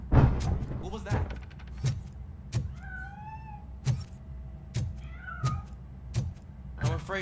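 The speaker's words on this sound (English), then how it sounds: "I'm afraid this time it's a one-way street, Mr. Cat. But where are you hiding? There he is." In the video game RoboCop: Rogue City, a cat gives a few short meows between bursts of speech, with clicks and mechanical game noises scattered throughout at close range.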